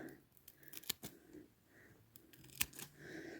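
Scissors snip through rose bush stems during summer planting in a garden, giving a few sharp separate clicks and cuts at close range, with faint rustling between them.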